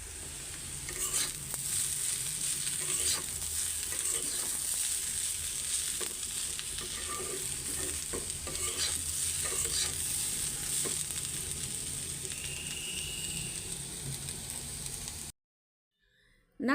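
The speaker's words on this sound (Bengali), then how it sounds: "আলু ভাজি প্রায় হয়েই গেছে, আর একটু লাল লাল করে ভাজবো" Potatoes fry in a pan with a continuous crackling sizzle and occasional scraping stir strokes for about fifteen seconds, then the sound cuts to near silence.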